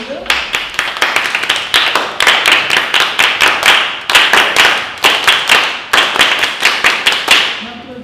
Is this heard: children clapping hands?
yes